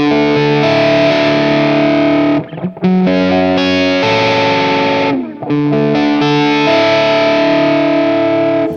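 A loud distorted electric guitar, a Stratocaster, plays sustained chords and notes with a warm, fuzzy, bubbly tone, ringing on with a couple of brief dips.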